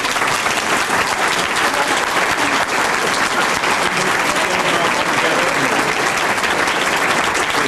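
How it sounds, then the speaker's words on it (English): Sustained applause from an awards ceremony audience honoring fire department members, steady and dense clapping filling the room throughout without a break. "And could we please give them all a round of applause?"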